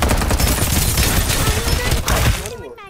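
Rapid bursts of gunfire in the video game Farlight 84 crackle loudly in a dense volley, then cut off abruptly into a brief quieter tail.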